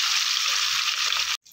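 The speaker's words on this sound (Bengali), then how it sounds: "মাছটা একটু বড় বড় তাই দুটো করে আমার ভাজতে হবে, একেবারে ভাজা হবে না।" Large pieces of rui fish fry in a pan with a bright, steady sizzle, close and even, then cut off abruptly near the end.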